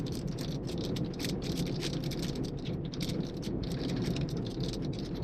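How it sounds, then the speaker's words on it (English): Heavy rain falling outdoors during a drive in Okinawa, a dense steady hiss and patter with rattling drops hitting surfaces, continuous and close throughout. "unfortunately, rain gets heavier"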